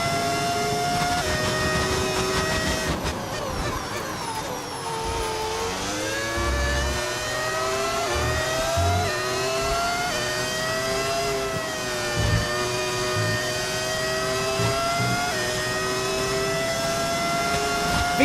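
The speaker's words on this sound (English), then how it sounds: "V10 sound in 2025," Engine note of a V10 Formula 1 car in the F1 25 racing game, a high, continuous scream that rises and falls through the gears across a long stretch of driving, heard alone without talk.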